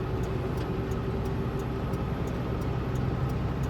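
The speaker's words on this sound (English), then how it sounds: "There's a truck coming." A truck coming along the road with no one else around sends a steady, loud engine and tyre rumble that stays constant and fills the scene.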